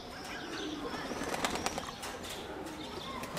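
Young pigeons take to the air, wings flapping in short bursts amid soft cooing and chirps over steady outdoor ambience.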